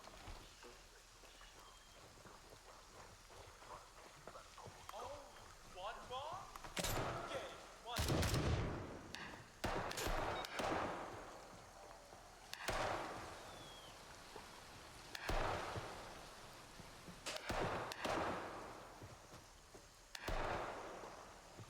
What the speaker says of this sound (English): Pretty sure those shots are outbound.